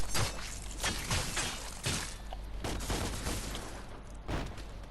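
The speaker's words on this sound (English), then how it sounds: "Besides firing through a straight target with the pistols, Dante can also perform airborne based attacks" Rapid bursts of pistol fire as Dante attacks in midair in DmC: Devil May Cry, sharp repeated shots in quick clusters layered with impact and combat effects.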